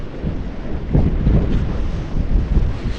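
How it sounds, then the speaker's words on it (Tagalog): Strong sea wind buffets the microphone on a fishing boat offshore, a continuous low rumbling roar with gusty surges and no voices. "malakas po ang hangin sa lubong."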